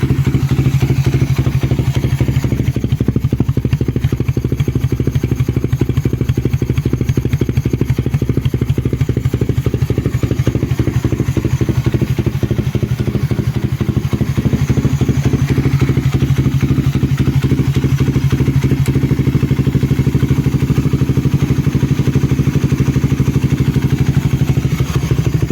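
A motorcycle idling steadily with a DIY idle rumble switched on, a loud, close, continuous low engine drone with a rapid regular lumpy pulse throughout, no talking.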